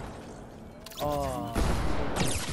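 Enemy players in a squad shooter open fire: a fast burst of loud close gunshots cracks out alongside a voice, then another sharp volley follows.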